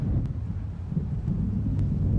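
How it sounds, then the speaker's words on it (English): An approaching thunderstorm in the video game Alan Wake rumbles low and continuous near the coast, with wind and a few faint crackles over the steady roar. "It seems there's a storm coming."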